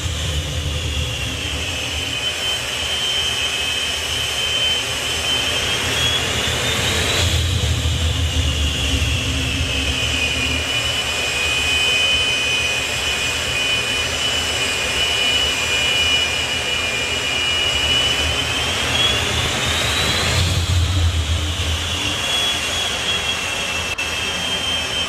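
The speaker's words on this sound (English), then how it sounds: "Fantastic job to get the jet restarted." A jet dragster engine runs at the NSRA Hot Rod Drags, a loud, steady roaring whine close by with a high tone that bends upward twice as the throttle swells, with no voices over it.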